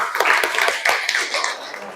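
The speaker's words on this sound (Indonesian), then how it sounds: "Sekali lagi tepuk tangan yang meriah untuk kelompok 4." Students in a classroom applaud group 4, a lively stretch of many hands clapping together, close and continuous, with faint voices underneath.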